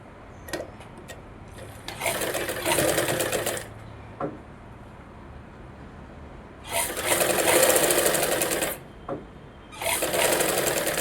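A sewing machine runs in three bursts stitching a half-inch hem on a lined blouse, steady rapid whirring with pauses and small handling clicks between runs, close and clear.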